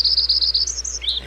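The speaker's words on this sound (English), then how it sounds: "we have now listened to Lincoln sparrows" A recorded Lincoln's sparrow song: a rapid, high, bubbling series of clear chirps and trills, loud and close against a low steady hum, with no voices.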